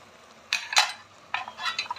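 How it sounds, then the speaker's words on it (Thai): A lid set onto a cooking pot while mok pla siw is prepared, heard as two short clattering metal contacts a moment apart, close and fairly sharp, with no voices. "ปิดฝา"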